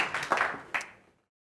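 Brief burst of audience clapping for stand-up comedian Dave Greaves on a comedy show, a few sharper claps rising then fading out within a second.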